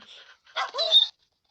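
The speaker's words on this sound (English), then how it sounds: "They're all just coming like wild dogs." Several dogs crowd in close, letting out a short series of yips and whimpering barks that break off after about a second.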